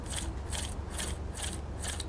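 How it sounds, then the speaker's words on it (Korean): A power tool motor with worn or faulty carbon brushes turns over in a steady loop, giving a continuous low hum under a rhythmic rasping, whirring scrape that pulses about twice per second, close and alone. "이 소리가 카본 아니면은 모터예요."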